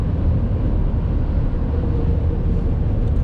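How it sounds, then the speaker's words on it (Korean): A steady low four-cylinder engine drone fills the cabin of a 2021 Toyota Sienna Hybrid on the highway, a constant rumble with road noise and no speech. "4기통 소음은 엔진룸에서 들어온 소음은 좀 크고"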